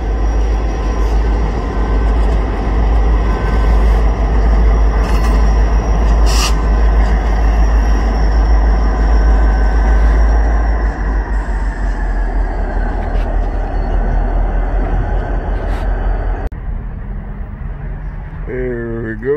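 A four-axle, lower-power locomotive with four drive wheels hauls a train past at close range. A loud, steady rumble and wheel noise roll on before easing off near the end.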